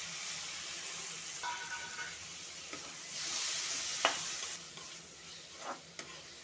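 Chopped tomatoes dropped into kohlrabi frying in a pan with ginger-garlic paste, a soft steady sizzle with scattered stirring scrapes and clinks, quiet and close.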